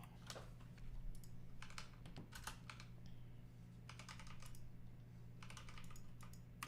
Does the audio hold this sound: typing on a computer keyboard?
yes